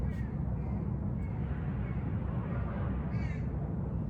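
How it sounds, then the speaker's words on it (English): A few faint crow caws drift in from a distance over a steady low rumble of outdoor ambience, widely spaced and soft. "As you hear the creatures around you, maybe birds cawing"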